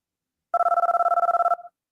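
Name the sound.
telephone ringing sound effect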